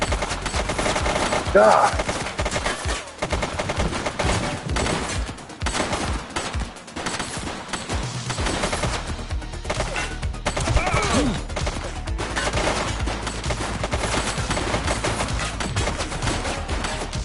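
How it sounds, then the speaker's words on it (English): Automatic and single-shot gunfire in the police video game The Precinct, with rapid bursts and sharp cracks over a steady rumble, loud and continuous, and a voice briefly speaking. "Target is down. She's shooting!"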